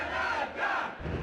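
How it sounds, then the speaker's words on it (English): A packed wrestling arena crowd in the video game WWF Warzone chants "Canada" in loud, rhythmic swells, a dense roar of many voices rising and falling over about a second. "Yeah, they're chanting Canada."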